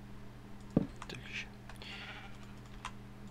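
A sheep bleats in Minecraft, one short close bleat over a steady hum and faint game clicks.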